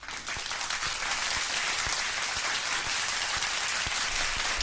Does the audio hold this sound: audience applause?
yes